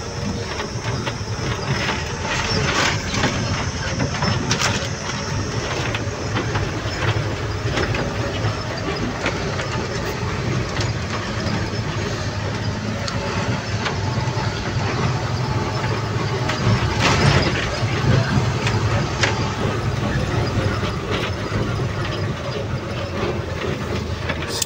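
A truck driving to a cement loading point in Maharashtra: a continuous engine rumble with rattling and clatter heard from inside the cab, loud and steady throughout.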